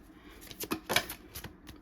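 Quick bursts of tarot card shuffling, soft riffling and flicking rising to a sharper flurry midway, close and fairly quiet with no talk.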